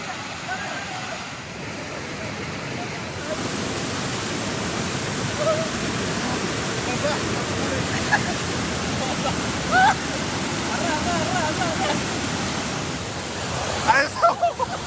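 Multi-step waterfall at Narasipuram near Coimbatore, a steady loud rush of falling water throughout, with faint voices and splashes of people bathing mixed in and a few sharper sounds near the end.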